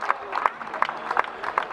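Scattered, modest applause from a small crowd after a women's French Cup football match, light irregular claps at a distance.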